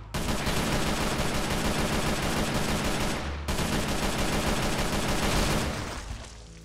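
Sustained rapid automatic gunfire from Techguns mod weapons, a bolt action rifle and a Kalashnikov, in a Minecraft-style zombie game, loud and continuous with a brief break midway before tapering off, no talking.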